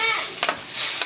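Pork cubes sizzle steadily in a hot pan for a moment, a close hissing fry with a couple of brief stirring scrapes.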